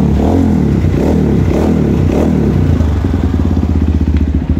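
A motorcycle engine revs up and down in several loud surges close by, then settles into a rapid, chugging idle.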